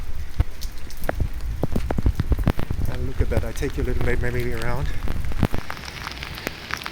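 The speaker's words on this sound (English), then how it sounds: "It's full of rain. Fully raining." Heavy summer rain patters continuously on surfaces outdoors in Medjugorje on a June day, with dense sharp drips close by while someone talks over it.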